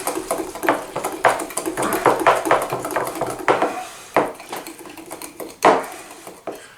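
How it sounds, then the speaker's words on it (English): A utensil whisks egg yolks and mustard in a bowl, producing rapid irregular clinks and scraping taps against the bowl, close and fairly loud without speech. "with the egg yolks, we're just going to mix this all up"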